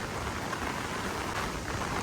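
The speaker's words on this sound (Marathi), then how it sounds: "पाऊस इकडे कंटिन्यू चालू असतो" Steady, dense monsoon rain pours down continuously at Bhandardara, a close and fairly loud wash of drops with no pauses.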